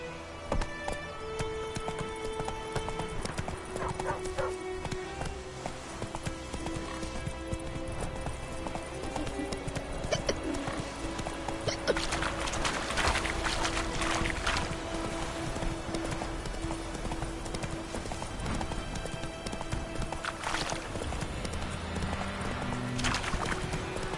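Roach, a horse in The Witcher video game, gallops with a continuous rapid clip-clop of hooves over a bed of game music and ambience, steady and fairly loud throughout, with a brief whinny and faint voice cues.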